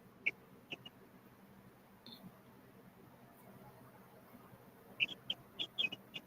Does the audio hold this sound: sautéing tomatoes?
no